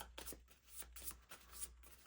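Cards from the Harry Potter Hogwarts Battle board game are shuffled by hand in several quick, soft riffling bursts, close and quiet with no talking.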